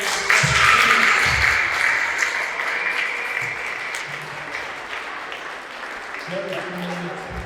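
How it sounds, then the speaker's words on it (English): Audience applause honoring a teacher retiring after 50 years, a dense, loud burst of clapping at the start that slowly thins and fades, with murmuring voices and a few louder voices breaking through near the end. "Let's have another round of applause for"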